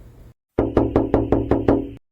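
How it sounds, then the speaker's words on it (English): A fist knocks on a door seven times in a quick, even series, close and loud, after a short pause of near silence. "I balled my shaking hand into a fist, and I started to repeatedly rap on the door"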